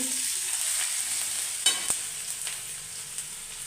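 Ginger-garlic paste sizzles steadily in hot oil with cumin in a pan over low heat, a close, constant frying hiss broken by a couple of sharp spoon scrapes and taps against the pan partway through.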